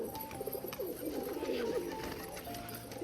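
Pigeons coo steadily at close range, a tumbler pigeon of the Mushki breed tossed lightly into the air among them, with a low outdoor background murmur throughout.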